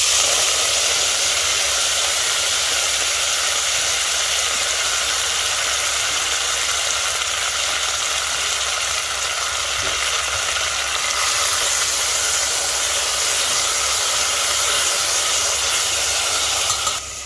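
Chopped fenugreek leaves fry in a pan with crushed garlic for Sindhi-style methi matar pulao, giving a loud, steady, unbroken sizzle throughout, with no speech.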